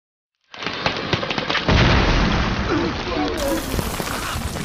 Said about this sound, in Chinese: 这种果实在成熟期极易发生爆炸，其威力足以杀死一匹斑马